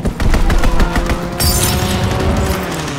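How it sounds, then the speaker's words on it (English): Dense strafing gunfire from a fighter plane in the WW2-era Call of Duty video game, a loud continuous fusillade of rapid shots and booms with a bright burst midway, no talk. "Fighter pilot inbound. Strafing the target."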